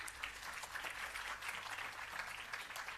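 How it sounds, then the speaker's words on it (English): At a public relations campaign launch, the audience gives another round of applause, a fairly soft but continuous patter of many hands clapping throughout the few seconds. "Another round of applause."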